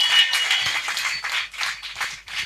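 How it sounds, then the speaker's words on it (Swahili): A church congregation at a prayer seminar claps together in a lively, steady rhythm, dense and close, with no speech over it. "Hebu wanaokwenda mbinguni wapige makofi ya kutosha."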